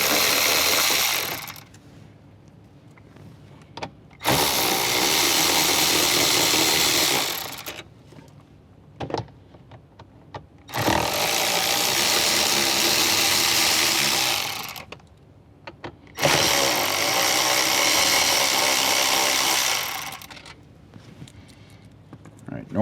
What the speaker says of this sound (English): we're going to go ahead and take out the 4 10mm bolts